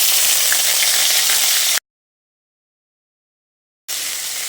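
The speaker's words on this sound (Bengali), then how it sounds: "এবার আদা ও কাঁচা লঙ্কাটা দিয়ে বেশ কিছুক্ষণ তেলের সঙ্গে নেড়ে চেড়ে মিশিয়ে নিতে হবে" Sizzling of ginger and green chili paste being stir-fried in hot oil, a steady close hiss that cuts off abruptly into silence for about two seconds before resuming.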